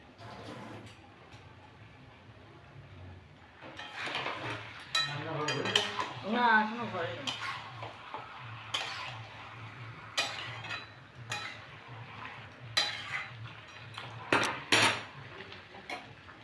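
Chicken masala with potatoes being stir-fried in a home kitchen pan, a metal spatula scraping and clinking against the pan in irregular bursts, with soft sizzling and handling noise between strokes.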